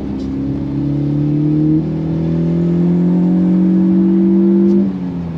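A BMW 320i E90 with a direct-intake cone filter revs steadily, its engine drone carrying a thin whistling tone that rises and holds, then drops off as the revs fall.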